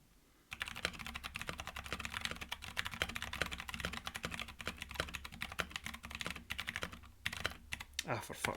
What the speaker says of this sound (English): Typing noises, typing sounds.